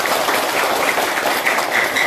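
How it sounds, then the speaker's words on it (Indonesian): Crowd at a batik centre visit claps for Indonesian batik, a loud, close, continuous patter of many hands with no pauses and no voices over it. "Tepuk tangan untuk batik kita."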